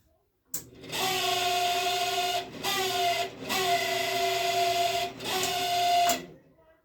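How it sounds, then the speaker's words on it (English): A small electric motor inside a Camp Chef pellet smoker runs with a steady whine, cutting out and restarting in several short bursts, fairly close. "So it's like this motor down here, guys."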